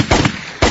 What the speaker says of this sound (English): Got to put some gunshots in there